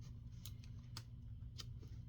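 Scissors snip through a junk mail envelope to trim it down for a composition-book junk journal, giving three or four sharp, quiet cuts spaced apart against a low steady room hum.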